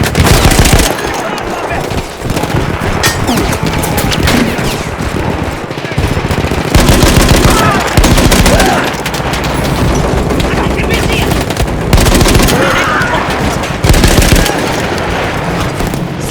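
Rapid machine gun fire rattles in Battlefield 1 as an Italian soldier mans a captured Austro-Hungarian gun, loud and close in long sustained bursts over battle noise, with brief pauses and voices shouting underneath.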